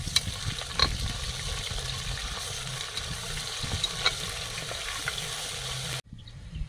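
Onions frying in oil in a pan with ginger garlic paste, a steady close sizzle and crackle that runs throughout with occasional stirring clinks, then cuts off near the end.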